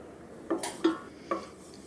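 A utensil scraping browned butter bits from a pan into a bowl, with three distinct metallic clinks and scrapes close by in a quiet kitchen.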